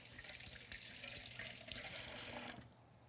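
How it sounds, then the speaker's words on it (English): Tap water runs into a sink during handwashing in a home kitchen, a soft steady splashing stream that stops abruptly near the end. "I'm just gonna give my hands a little wash."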